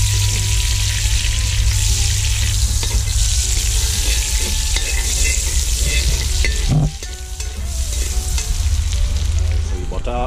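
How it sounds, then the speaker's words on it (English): Kerrygold Irish butter melting in a pot gives a loud, steady close sizzle with some stirring, easing briefly near the end before the frying hiss resumes. "We're going to add some Kerrygold pure Irish butter. We have a little chunk here. Add that in the pot."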